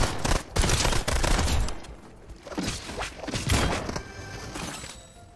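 A sustained volley of gunfire in Fortnite, with dense overlapping shots rolling in waves that swell, ease off and surge again, loud and close with no voices.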